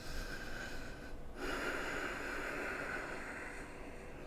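Deep, slow breathing during a yoga pose in a slow-flow vinyasa class: a long, airy, close breath with a rough, snorting edge, shifting into a fuller rush of air partway through, with no talk.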